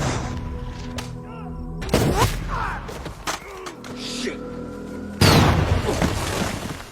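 In a war film battle scene, grenades explode as two sharp, heavy booms with ringing tails, separated by a few seconds. Scattered thuds, clatter and other combat sounds fill the gaps.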